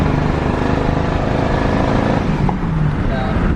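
An overhauled truck's exhaust rumbles steadily as it accelerates under boost, a loud continuous drone with road and cab noise throughout.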